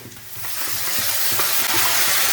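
Onions sautéing with ginger and green chili paste in a pan, a steady hiss rising under close stirring scrapes, with no voices.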